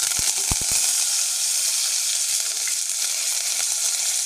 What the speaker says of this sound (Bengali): আমি গ্যাস জ্বালিয়ে তেলটা দিয়ে দিয়েছি, এবার আমি ফোড়নটা দিয়ে দেবো পুরো।